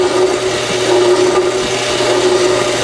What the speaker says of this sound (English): We're going to file left-handed.